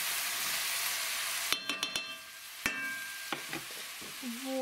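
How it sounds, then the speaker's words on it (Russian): Coarsely cut carrot rings, onion, pepper and garlic frying in a pan, a steady sizzle broken by a few sharp clinks and scrapes of a utensil stirring. "И пусть обжаривают овощи у меня."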